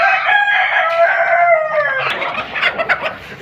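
Hens crowding onto scattered grain, a close, loud drawn-out fowl call followed by quick excited clucks, with no talking.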